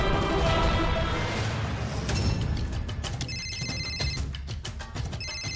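A telephone rings with repeated bright electronic trills, loud and near, after a clattering noisy start; the ringing comes in two bursts toward the end with no voices.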